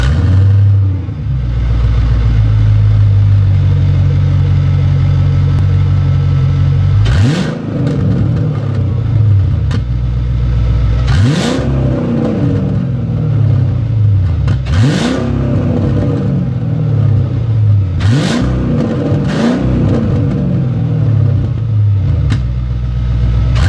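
A turbocharged track car engine idles with a steady low rumble, then revs up sharply several times, each rev rising and falling back, close by.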